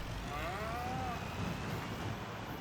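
Cattle on a farm, a bull and a cow with her calf, give a drawn-out lowing moo near the start over a constant background rumble, fairly close and loud.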